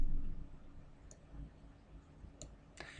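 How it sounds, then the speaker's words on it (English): A computer mouse clicks while an image outline is traced by clicking and dragging, with a few sharp, isolated clicks spaced irregularly over a quiet low background hum, close and without speech. "I'm just going to carry on clicking and dragging all the way around,"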